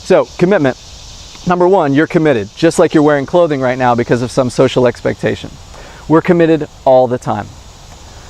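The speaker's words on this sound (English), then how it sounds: "I don't know if you can hear the cicadas that are humming out here." Cicadas hum outdoors near a backyard swing set, a faint, steady high buzz running continuously beneath a person's close, clear speech.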